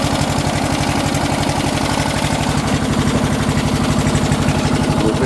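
A Briggs & Stratton 13HP engine on a Yardman ride-on lawn mower idles steadily after a no-spark repair, with a loud, even, rapid low-pitched putter that runs alone and unbroken throughout.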